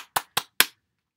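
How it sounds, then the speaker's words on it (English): Three sharp hand claps in a quick, even rhythm, close and clear, then silence; applause at the end of a children's storytime reading of Eloise Greenfield's "Honey, I Love." "Let's give it a big clap like we always do."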